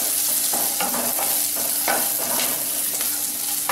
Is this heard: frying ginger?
yes